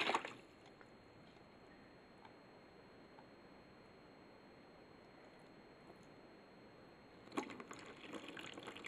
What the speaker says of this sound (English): Now I'm taking water and just kind of filling it up